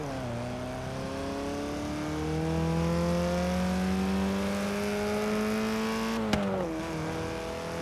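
A Porsche sports car engine in Forza Horizon 3 revs and holds a steady throaty drone, pitch climbing slowly, with a sharp exhaust pop near the end.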